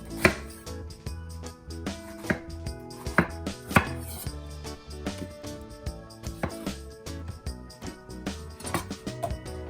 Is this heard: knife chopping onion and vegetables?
yes